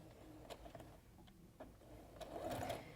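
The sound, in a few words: sewing machine backstitching a fabric headband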